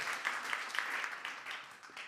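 Scattered applause from a comedy club audience, a broad wash of clapping with a few sharper individual claps standing out, steady and moderate for a couple of seconds with no voices on top.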